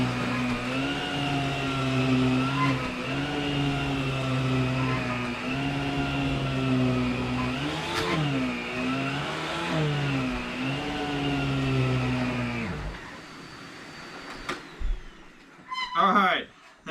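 A Hoover WindTunnel Self Propelled Ultra upright vacuum cleaner runs with a loud, steady motor whine and airflow roar that shifts pitch slightly as it moves, then shuts off, followed by a few clatters.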